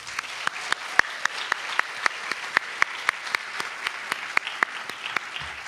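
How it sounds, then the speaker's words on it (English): An audience applauds at a reading-series event, with steady, crisp claps rising sharply and evenly throughout, forming a rhythmic round of applause with no talk over it. "Round of applause."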